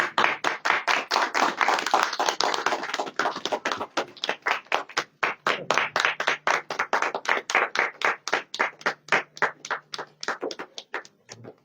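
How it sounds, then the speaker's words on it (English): A crowd applauds at an MOU signing ceremony between Patanjali Group and the Moscow Government, starting as a dense burst of clapping and settling into slower, rhythmic unison claps close by. "Guys, a big round of applause."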